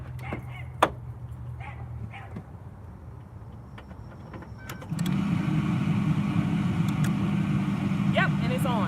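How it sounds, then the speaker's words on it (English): Chevy Aveo 07-10 engine cranking and catching at close range, settling into a loud, steady idle after a few quiet clicks and thumps. "I'm gonna go to start the car so I can make sure that this actually works before"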